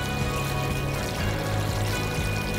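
Water poured into a spiral dough mixer over flour, salt, malt, yeast and oil gives a steady, close, continuous splashing stream for bread dough, alone with no talk.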